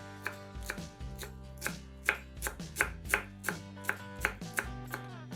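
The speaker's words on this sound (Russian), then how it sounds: "Пучок петрушки измельчаем ножом" A knife chops a bunch of parsley on a board in crisp, evenly spaced strokes, close and clear with no talk.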